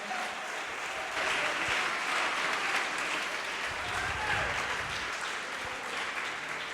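A church congregation applauding during a sermon, a broad sustained wash of clapping from many people with scattered voices and cheers mixed in, steady and moderately loud.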